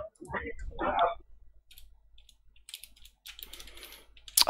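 Keys on a computer keyboard clack in short irregular bursts, close and crisp, after a voice speaks at the start and with small gaps between the runs of typing.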